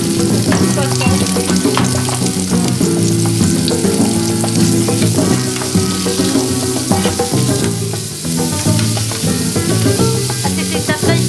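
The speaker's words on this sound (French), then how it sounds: "On commence par faire sauter un peu l'oignon" Onion sautés in a pan for homemade couscous, giving a loud, continuous close sizzle with crackling bursts and occasional stirring, with no voices.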